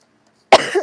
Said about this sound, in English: Oh, wait, I keep coughing into the mic.